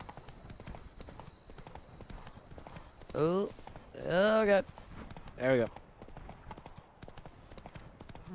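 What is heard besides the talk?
horse hooves while riding in video game The Witcher 3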